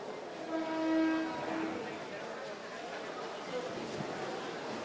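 A Mumbai local train on the Western Railway line at Dadar station sounds its horn in a few long tones near the start, over a rumbling platform bed with crowd noise and voices.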